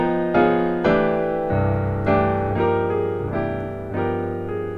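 Jazzy piano chords voiced with flat 9, sharp 11 and 13 alterations, struck about six times in a slow sequence, each rich chord ringing out clearly and sustaining before the next.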